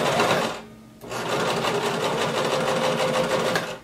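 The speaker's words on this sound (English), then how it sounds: "now we're going to sew up this pocket" A sewing machine stitches up the pocket of a denim maxi skirt, running in a fast steady rhythmic drone, briefly pausing before resuming, loud and close.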